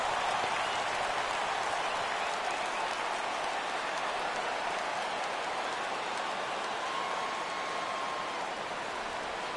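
Stadium crowd in the baseball video game MLB The Show 17, Yankees versus Mariners in extra innings, rising for a full count: a steady, broad roar of cheering that holds at even loudness throughout, with no clear voices on top.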